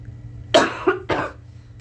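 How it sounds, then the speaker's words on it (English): A person coughs in two harsh bursts, the first with a short doubled hack and the second a bit later, close and fairly loud over a low steady hum. "My cough, yeah."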